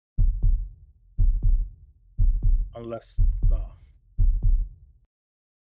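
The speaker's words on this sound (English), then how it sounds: "you hear something like a heartbeat beating above you" Heartbeat sound effect during a haunted-manor tabletop role-playing game, a close, deep lub-dub pulse repeating steadily about once a second, with a brief voice cutting in midway.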